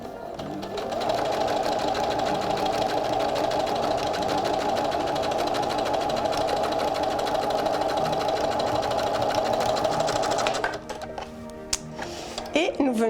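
A domestic sewing machine stitches a French seam at 0.75 cm in a continuous, even mechanical whir for about ten seconds, then stops and gives a few clicks and handling sounds.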